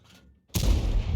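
Tank cannon fires at a Panzer in a tank video game. After a quiet rumble and a brief silence, a sudden loud, close boom hits, followed by a heavy, sustained blast roar.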